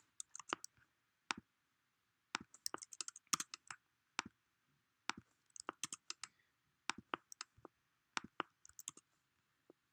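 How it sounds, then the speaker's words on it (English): Quiet, sharp computer mouse clicks at a 3D modeling workstation, arriving singly and in quick doubles and triples with gaps between them, and no voice. "So I'm going to select these one by one. I'm going to click on it."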